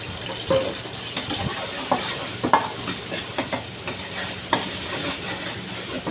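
Chunks of crocodile meat are stir-fried in chili garlic oil, a continuous hot sizzle with scattered clacks and scrapes of a stirring utensil against the pan, close and steady with no talking.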